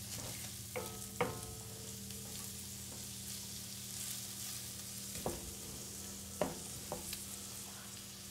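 Onions sizzle in a pan over raised heat for a stuffing with andouille sausage, a soft, steady frying hiss broken by a few sharp clinks of a utensil against the pan.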